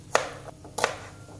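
A knife chopping taro stolons (kochur loti) into small pieces, two sharp, close cuts against a board about half a second apart, with quiet room tone between them.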